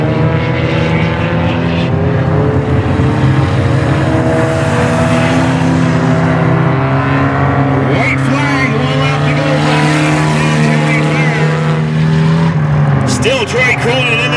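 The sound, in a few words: ministock race cars on the track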